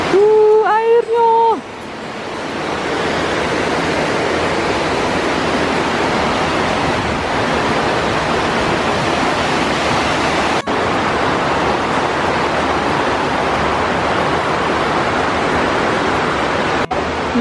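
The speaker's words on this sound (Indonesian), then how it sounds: "ini adalah jalan terowongan supaya kita bisa lihat airnya, air terjunnya" Waterfall near Hallstatt, Austria, heard from inside a tunnel as a steady, loud broadband rush of falling water, with a brief voice at the very start before the roar continues alone.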